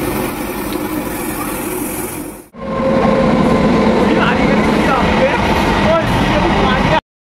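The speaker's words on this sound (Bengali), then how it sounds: "চলো, ট্রেন এসে গেছে" Inside a train station on a pilgrimage route to Tarakeswar, a steady, loud rolling rumble of a train fills the space after a brief cut, with voices faint beneath the heavy mechanical din.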